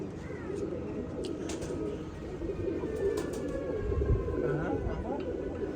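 Pigeons coo steadily in low, throaty rolls, close by and continuous, with background voices and ambient noise underneath.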